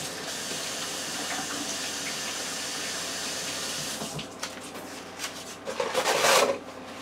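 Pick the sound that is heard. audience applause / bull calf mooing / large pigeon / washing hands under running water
washing hands under running water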